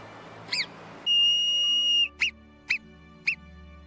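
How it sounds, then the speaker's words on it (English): A burrowing mountain animal gives sharp whistle calls: a few short high chirps, one long sustained whistle, then three more brief evenly spaced chirps, loud and clear against a quiet background. "They have 5 distinct whistles and trills."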